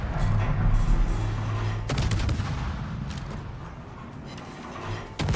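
Naval guns aboard the destroyer Gearing in World of Warships fire high-explosive shells in heavy booming salvos. A constant low engine rumble runs underneath, with sharp blasts near the start and end.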